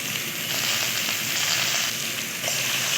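Chopped potatoes and turmeric fry in hot tempering oil in a village kitchen, making a loud, dense and steady sizzle that fills the whole moment, with no voices.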